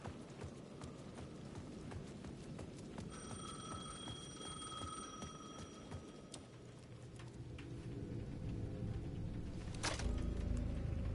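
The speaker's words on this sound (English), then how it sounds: "The payphone at the edge of the plaza was ringing again." A faint electronic payphone ring in the video game Alan Wake 2 sounds for a few seconds over a busy, rustling background of ambient noise and soft clopping taps.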